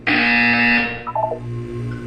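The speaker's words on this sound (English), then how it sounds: "You will hear a buzzer." An electronic buzzer in the video game Portal 2, one loud, harsh, steady tone held for under a second, then a short wavering electronic flutter over a low hum.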